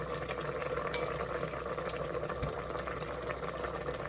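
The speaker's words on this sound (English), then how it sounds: "I'll probably simmer it just a little while longer" Beef and broccoli sauce thickened with a cornstarch slurry simmers in an Instant Pot, giving a steady, continuous bubbling with no talking.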